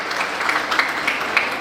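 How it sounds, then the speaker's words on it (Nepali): An audience claps steadily at a Nawalpur award ceremony for students with top SEE 2082 results, giving a brief, even burst of dense applause with no speech. "त्यहाँ सबै अभिभावकले मात्र ताली बजाउनु हो।"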